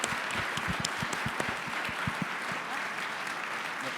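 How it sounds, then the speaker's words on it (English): A crowd applauding steadily, many hands clapping in a dense, continuous patter that holds at an even level throughout. "Please give them a round of applause."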